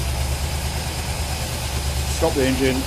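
A Rover V8 fitted in a 1953 Riley RMF with a quad-carb setup idles on a fast tick over, a steady low rumble, with a voice speaking briefly over it near the end.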